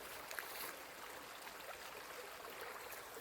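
A small creek at a campsite along the Appalachian Trail, a soft, steady rush and trickle of flowing water, faint and close, with no voices.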